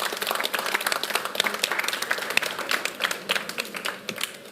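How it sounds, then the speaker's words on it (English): Applause for keynote speakers, a minister and a doctor, at a hydrogen and net-zero event during COP26, with individual claps distinct and a moderately sized crowd clapping steadily before it thins out. "Please give them another round of applause."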